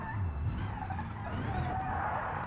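A driving video game car drifts with sustained tire skidding and engine roar, a continuous loud squeal over low rumble, no voices.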